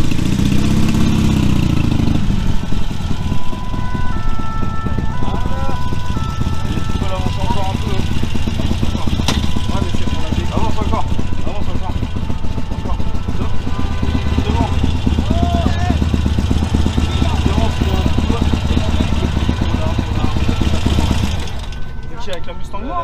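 A Ford Mustang engine idles steadily and close by in a busy outdoor setting, a low continuous rumble running under crowd noise and people talking, with some brief revving moments before fading near the end.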